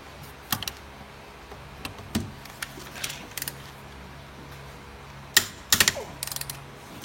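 A hand ratchet works on the bolts holding the axle stubs to a differential, giving scattered bursts of clicking and metallic clanks against a quiet workshop background.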